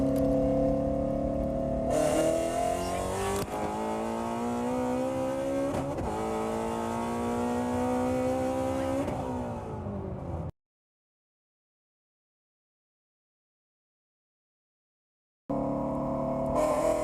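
Supercharged Shelby GT350 Mustang running E85 pulls hard through a 60-130 run, engine note climbing in several rising sweeps broken by quick gear changes, loud and close, then cutting to silence before resuming briefly.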